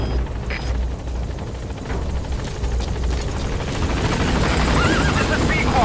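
Helicopter in the video game Metal Gear Solid V approaching a landing zone, a loud continuous rotor thrum and turbine whine that builds steadily toward the end.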